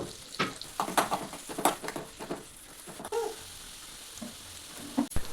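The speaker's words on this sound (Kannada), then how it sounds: "ಸಣ್ಣದಾಗಿ ಕಟ್ ಮಾಡಿ ಇಟ್ಕೊಂಡಿರೋ ಈರುಳ್ಳಿನ ಸೇರಿಸಿ ಒಂದು ಬ್ರೌನ್ ಕಲರ್ ಆಗುವಷ್ಟು ಫ್ರೈ ಮಾಡ್ಕೋಬೇಕು" Finely chopped onions frying in butter in a kadai for palak paneer, with bursts of stirring scrapes and sizzle, several louder strokes early, quieter stretches later, close by.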